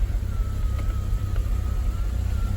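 Car power window motor running the glass down in an older project car, a faint steady whine heard under a loud low engine idle and road rumble inside the cabin.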